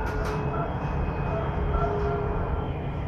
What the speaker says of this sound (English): We're just on the train C1 line heading from Fuengirola to Málaga.